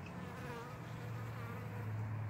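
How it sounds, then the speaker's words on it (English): A honeybee flies in toward its hive, a close, steady buzzing drone that holds throughout, quiet and alone with no talking. "there's a bee coming in."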